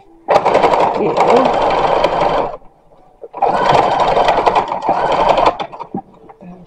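Sewing machine running with a large stitch along the gathering of a 1916-style embroidered linen dress, two sustained bursts of steady whirring stitching about two seconds each, close and loud, with a brief pause between and a voice speaking.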